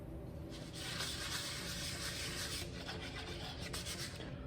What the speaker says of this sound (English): Have you ever tried sanding your whole project by hand?